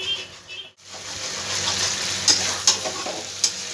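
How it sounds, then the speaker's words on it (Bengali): Potatoes and pointed gourd sautéed with fried spices on a low flame, a bright steady sizzle broken by a brief pause, then a few sharp spatula scrapes against the pan. "খুব ভালো করে মশলার সঙ্গে আমি 2 সেকেন্ডের মতন আমি কষিয়ে নেব।"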